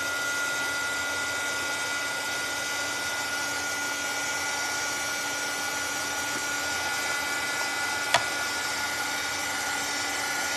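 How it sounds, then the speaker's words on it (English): A heat gun dries paint on a gingerbread craft, giving a steady, even blowing hum from start to finish with one brief sharp click near the end. "I do have my heat gun out. I'm going to go ahead and hit that with the dryer real quick."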